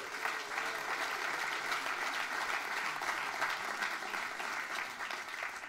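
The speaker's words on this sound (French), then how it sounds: "Applaudissements." A dense, even round of audience applause fills a hall at a regional sports awards ceremony in Nyon, sustained without a break and with no talk over it.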